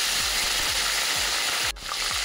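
Okra hitting hot oil in a pan with onions for an okra fry, cooked over high heat: a steady, loud hiss with faint rhythmic clicking underneath and a brief dip near the end.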